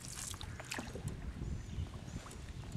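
A canoe paddled on Jug Lake in the Alabama Delta, with close, irregular splashes and water swishes from the paddle strokes over light wind, no voices heard.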